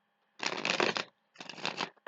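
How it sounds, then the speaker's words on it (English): Tarot cards are riffle-shuffled close up in two quick bursts of crisp, fluttering shuffle with a short pause between them, heard alone with no voices. "I do shuffle the cards thoroughly before each and every reading"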